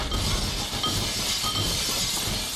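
Glass shatters loudly in the Happy Wheels video game, a sustained bright crash and crunch of breaking panes filling the full stretch with no one talking over it.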